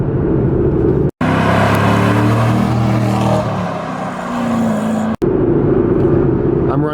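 A 2012 Camaro SS RS with a 6-speed manual pulling in third gear around 4,000 RPM, a loud, steady engine drone with deep harmonics, broken by two short gaps.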